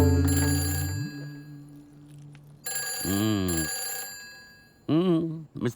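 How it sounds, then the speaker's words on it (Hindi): A telephone rings loudly in repeated bursts indoors in a slapstick comedy film, with voices speaking over and between the rings. "वो ना हमें जरूर फोन कर रहे होंगे।"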